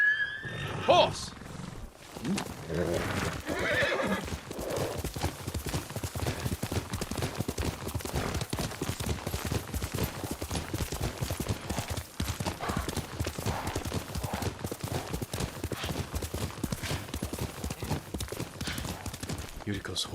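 Rapid hoofbeats of a galloping horse in Ghost of Tsushima pound steadily throughout, loud and close, with a brief whinny-like cry near the start.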